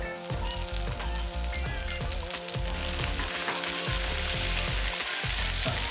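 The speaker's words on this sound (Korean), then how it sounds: "자, 그리고 기름 한 번 더 넣고 살짝 볶아주세요" Potato and carrot chunks stir-fry in oil for a homemade curry, giving a steady, loud sizzle with repeated scraping stir strokes close by and no talking.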